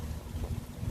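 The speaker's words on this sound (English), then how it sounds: "Very windy again today." Strong wind buffeting outdoors by a winter greenhouse, a low rumbling roar of gusts against the microphone, steady and close for a brief moment, with no voices.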